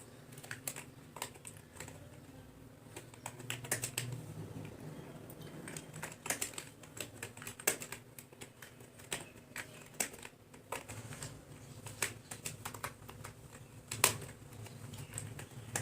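Someone types a greeting on a computer keyboard in a quiet room, with a quick, uneven stream of light key clicks and no talking.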